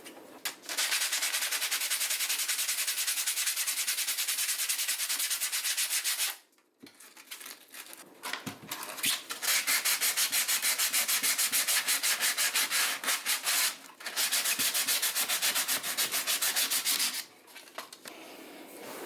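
Rough sandpaper scrubbing plastic panel pieces for a DIY Miata flush finish panel, long rapid back-and-forth rasping strokes, close and loud, with a couple of short pauses and no speech.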